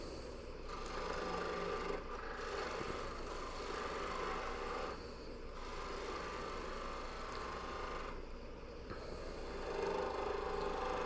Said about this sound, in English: And I'll cut it off with a little pole saw.